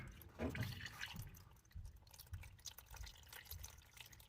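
Heating oil running out of a home furnace oil tank outlet during a furnace tear-down, a faint, steady liquid trickle with small drips and splashes, close by and alone.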